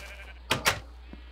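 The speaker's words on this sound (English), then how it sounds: "I went and grabbed me a bunch of sheep" A sheep in Minecraft version 1.2.5 gives a quick double bleat, two short, close, fairly loud bursts in rapid succession over a faint steady hum.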